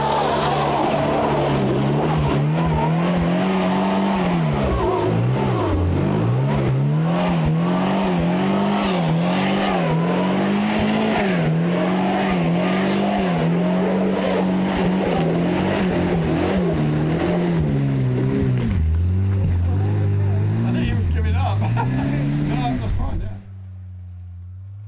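Rickman Ranger trials car revving loudly as it climbs a section at the 2019 MCC Exeter Trial, engine note rising and falling with wheelspin for over twenty seconds, then dropping to idle before stopping.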